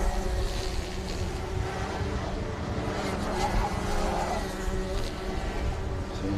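Racing karts lap a kart club track, their engines making a steady, overlapping buzzing drone at a middle distance with slight rises and falls throughout.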